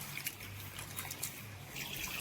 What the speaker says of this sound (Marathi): पाण्यात टाकून द्यायची आपल्याला मटकी आणि धुवून घ्यायची 2-3 पाण्यानं